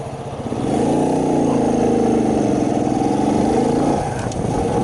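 Steady, loud wind buffeting roars over the rumble of a motorcycle engine on a ride home from work, a continuous close whooshing drone with no voices.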